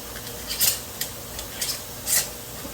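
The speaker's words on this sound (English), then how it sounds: "Put it on to fingertip tight." A metal lid and band are screwed onto a canning jar of raw-packed green beans, giving a few quiet, brief scraping and clinking twists close by with short pauses between them.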